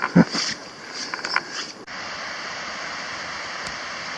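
A creek flows below a steep hillside hiking trail at Pollett's Cove, Cape Breton, Nova Scotia, heard as a steady broadband rush of water that becomes constant after a short stretch of brief rustling and handling noises.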